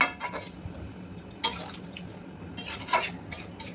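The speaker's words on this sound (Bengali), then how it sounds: "একটু দুধ দিয়ে এবার ভালো করে নাড়াচাড়া করে নিলাম" A spoon scrapes and clatters in a pot of vegetable shukto curry just after milk is poured in, giving intermittent metallic scrapes and knocks over a soft background hiss, fairly close and quiet, with no talking.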